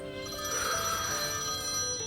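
A telephone rings continuously with a bright electronic trill, steady and moderately quiet, alone without voices over it.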